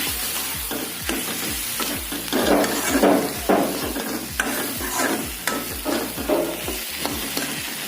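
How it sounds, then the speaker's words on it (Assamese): Spices fry on a medium flame in a pan, a continuous sizzle broken by repeated scraping strokes of a stirring spoon, close and moderately loud. "এতিয়া এইখিনি মিডিয়াম ফ্লেমত ভাজি লম ভালকৈ"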